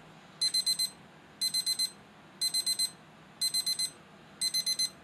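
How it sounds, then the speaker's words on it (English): An AcuRite 13024 atomic dual alarm clock beeps in five evenly spaced bursts, each a rapid group of four high electronic tones, close by and alone in a quiet room. "Beep."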